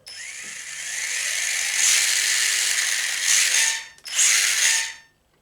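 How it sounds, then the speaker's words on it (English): A small brushless motor in a 1/18 scale Haiboxing RC mini truck whines at high pitch, running up, holding steady, dipping briefly and revving again before cutting off, loud and close with no talking. "If I turn it on, it's also a pretty fast motor"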